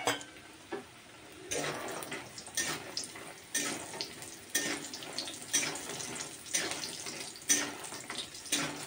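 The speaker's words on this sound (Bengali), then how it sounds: "আমি এটাকে এখন ভেজে তুলে নেব।" Homemade lentil dal bori hiss and crackle as they fry in hot oil, a steady dense sizzle with clattering stirring and scraping in the pan, close and fairly quiet, with no talking.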